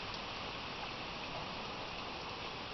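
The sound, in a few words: heavy rain falling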